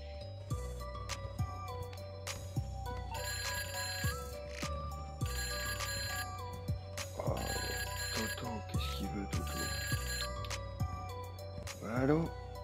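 A phone rings in GTA V with a steady electronic tone repeating in regular pulses over in-game background noise and music, loud and close, ending in a brief rustle.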